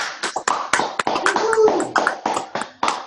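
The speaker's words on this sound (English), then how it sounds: "Let's give Robert a round of applause." A short round of applause for a top earner at a trading training session: a few people clapping in scattered, uneven bursts, close and moderately loud, with no talk over it.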